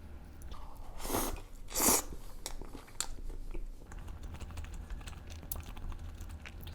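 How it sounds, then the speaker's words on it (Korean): Someone eats a Burger King Whopper up close, with soft wet chewing, a couple of louder bites and crunches early on, then quieter mastication that continues to the end. "먼저 일반 와퍼를 맛있게 빨리 먹겠습니다"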